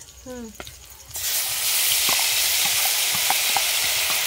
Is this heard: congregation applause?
no